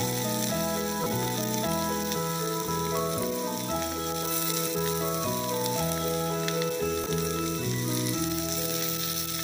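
Chopped tomato hits a pan of frying soya chunks and potato, and a continuous hissing sizzle runs beneath prominent tonal background music throughout.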